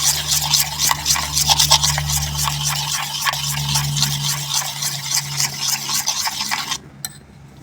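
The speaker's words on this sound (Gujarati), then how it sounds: "હવે આપણે બધું મિક્સ કરી દઈશું." Spices such as coriander-cumin powder, garam masala, turmeric and asafoetida being stirred into sprouted moong appe batter, giving a steady run of quick scraping, sloshing strokes that stop near the end.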